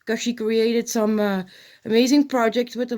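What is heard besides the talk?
No everyday noise stands out behind the speech.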